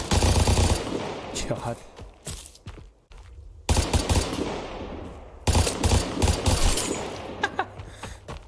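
Short bursts of tap-fired gunshots from a heavy-kicking gun in the video game Vigor on Nintendo Switch, loud and close. The bursts are separated by brief pauses, with footsteps and a short voiced exclamation between them.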